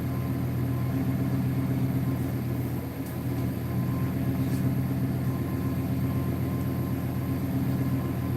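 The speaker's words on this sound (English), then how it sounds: "Mustang, you hear her idling out there." Mustang engine idling outdoors, a steady low rumble held at an even level for several seconds, somewhat distant with no other clear sounds over it.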